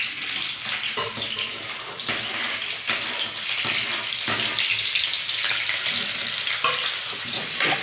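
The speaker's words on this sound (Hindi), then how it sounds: "मीनाक्षी बना रही है मस्त फ्राई चावल मटर के साथ।" Rice with peas fries in hot oil, giving a loud, dense, continuous sizzle with occasional stirring clatter close by and no talking.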